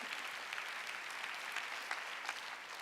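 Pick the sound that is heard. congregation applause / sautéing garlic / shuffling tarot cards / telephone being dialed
congregation applause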